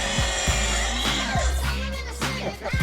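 A saw cuts through wood during a desk restoration, giving a rapid series of rhythmic rasping strokes, close and fairly loud, that run on evenly with no one talking.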